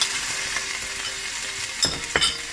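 Halved cherry tomatoes hit a hot soffritto of unpeeled garlic cloves and basil stems, frying with a steady, close sizzle, and a couple of sharp stirring clatters come near the end.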